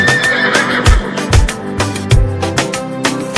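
A horse whinnies loudly near the start, set against a thumping rhythmic musical backing with repeated heavy beats.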